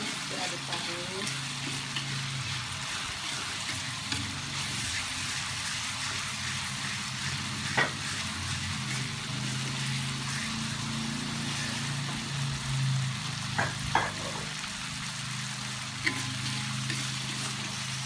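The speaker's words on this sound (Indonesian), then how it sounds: "Terus diaduk-aduk." Spicy-sour tutut (freshwater snails) being stirred in a pan, giving a steady close sizzle and frying hiss with scattered scraping and clinking taps from the utensil.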